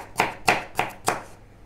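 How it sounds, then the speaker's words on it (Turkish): Four sharp knife chops through carrots on a cutting board, evenly spaced about a third of a second apart, close and fairly loud, then quiet. "Küçük küçük doğruyorum."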